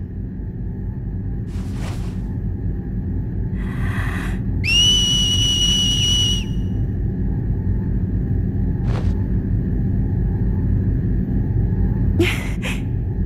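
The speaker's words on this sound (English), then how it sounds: "Wonder if a whistle would work here." A rising two-tone whistle in Dissidia Duodecim Final Fantasy sounds once, clear and bright over a steady low game-ambience rumble, with a few short soft noises around it.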